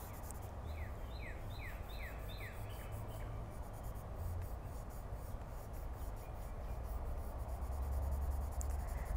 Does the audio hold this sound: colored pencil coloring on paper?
yes